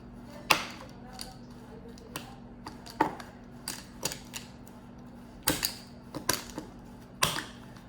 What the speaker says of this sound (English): I love the sound of chopping chocolate.